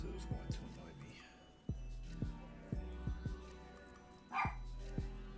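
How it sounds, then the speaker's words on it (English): Several dogs bark indoors in a rhythmic run of sharp, moderately near barks, with one louder yelp near the end, over a faint background. "my dogs are really going at it today"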